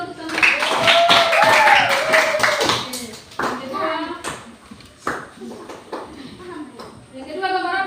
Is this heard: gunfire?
no